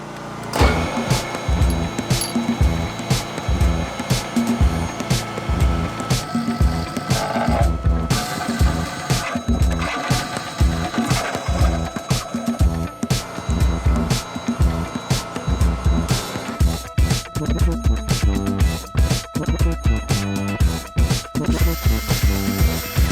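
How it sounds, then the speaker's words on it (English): Drill press boring a series of holes through a clamped granite plate, a loud continuous mechanical grinding and whirring with repeated rhythmic surges as each hole is cut, dense and busy throughout. "so now we're going to drill all the holes."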